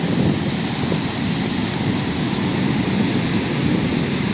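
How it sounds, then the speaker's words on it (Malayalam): Rough sea surging onto the shore at Chembirika in front of the Juma Masjid, a constant loud wash of roaring surf mixed with wind buffeting the microphone, with no voices. "കടൽ നല്ല രീതിയിൽ കയറി കയറുന്നുണ്ട് തിരമലകൾ കാണാം ദൂരെ നിന്ന് വരുന്നുണ്ട്"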